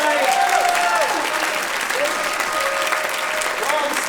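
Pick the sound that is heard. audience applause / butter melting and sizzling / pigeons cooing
audience applause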